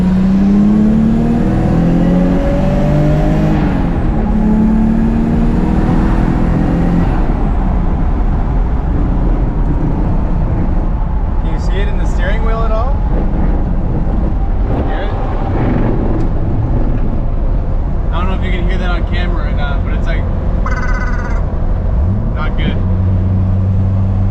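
Nissan S13 project car on a test drive, engine rising in pitch as it accelerates through gears, loud and close inside the cabin with wind rush and a few brief spoken words.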